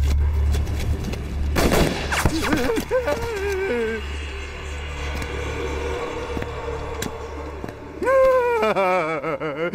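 Gunfire in an anti-Japanese war film: sharp shots and bursts crack over a rumbling battle bed, with shouting voices and an explosive blast near the start.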